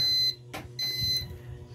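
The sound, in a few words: control panel alarm sounding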